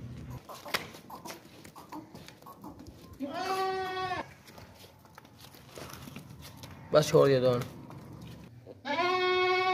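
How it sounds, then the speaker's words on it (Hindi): Goats, including nannies with young kids, give several loud, wavering bleats close by, separated by quieter stretches of rustling and someone talking. "बहुत ही प्यारी खूबसूरत बकरी है।"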